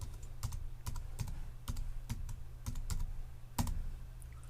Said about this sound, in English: we can use a very good little keyboard shortcut called Ctrl and J